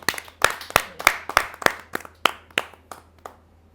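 Sharp, separate claps in a loose, slowing rhythm, about a dozen, from a small audience at a Hindi poetry recital, fading out toward the end.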